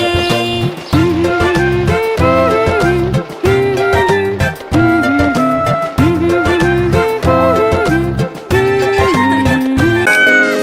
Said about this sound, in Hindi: म्याऊ म्याऊ म्याऊ म्याऊ, बिल्ली करती म्याऊ